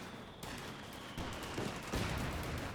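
Sustained gunfire in the video game Company of Heroes 2, a dense, continuous rattle of shots and distant bursts, fairly faint and with no voices.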